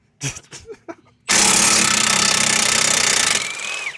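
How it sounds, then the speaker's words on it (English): Power tool, likely an impact wrench, taking out the bottom strut bolts on a 2005 Subaru Forester. A loud sustained rattling burst runs close for about two seconds after a few brief knocks and handling sounds, then fades. "Now I'm gonna take out these bottom bolts of the strut with Deborah."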